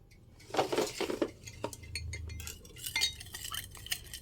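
A spoon stirs pork sauce thickened with cornstarch in a bowl, giving soft sloshing swirls and light clinks of metal against the dish, close and fairly quiet with no talk.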